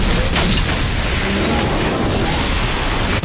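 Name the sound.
helicopter explosion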